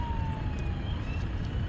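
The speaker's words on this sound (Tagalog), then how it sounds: "Ambulansya yan." An ambulance siren wails from a distance through street noise, its faint rising and falling tone sweeping steadily across a continuous traffic rumble with no voices over it.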